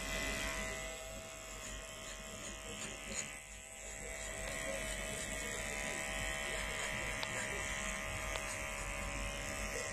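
Chinese-made electric hair clipper cutting hair during a zero-fade barber cut, a steady close buzzing hum running throughout with slight variations as it moves.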